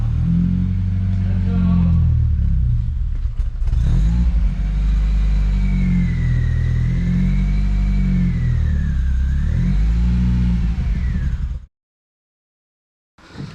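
BMW 316i turbo engine firing up and revving, a loud low rumble swelling and falling in repeated blips with whining tones above, then cutting off abruptly, with brief talking at the start.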